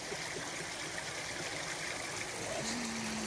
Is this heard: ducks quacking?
no